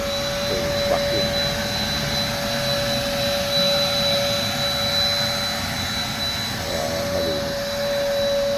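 A car wash vacuum cleaner runs continuously with a steady loud whine and airy roar, holding an even pitch throughout with no talk.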